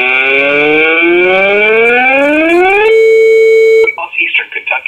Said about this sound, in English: the siren sounds amazing on it